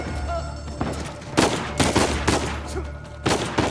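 Pistol gunfire in the action game Uncharted 4 on PS4, several loud sharp shots fired in irregular succession over a rumbling game soundscape.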